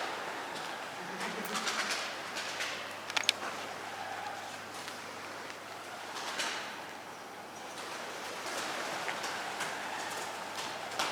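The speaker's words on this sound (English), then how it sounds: "Pigeon just flew in my face." Pigeons cooing and fluttering inside an abandoned factory, faint and echoing, with a brief wing flap near the start, under a steady hum and low background talk.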